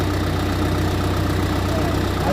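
A John Deere log skidder's diesel engine idles steadily nearby after a fuel treatment for fuel issues, a constant low, even rumble with no speech.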